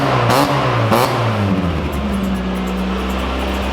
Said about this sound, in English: Give it a rev. What's that exhaust on it?